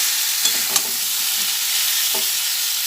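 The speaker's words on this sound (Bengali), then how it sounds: "সব দিয়ে দেওয়ার পরে আবার ভালোভাবে নাড়াচাড়া করে নিচ্ছি" Jackfruit curry with fried potatoes being stirred in a frying pan: a steady close sizzle with a few sharp scrapes of the spoon against the pan.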